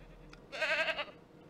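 A goat in the Ranch Simulator video game lets out a single short bleat, clear and close, over a quiet background.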